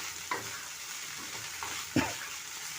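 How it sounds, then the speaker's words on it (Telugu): Ladies finger (okra) frying with a little turmeric, a faint, steady sizzle broken by a few soft spatula scrapes, one slightly louder, and no speech. "కొద్దిగా ఫ్రై అవనిద్దాం కొద్దిగా పసుపు వేసానండి"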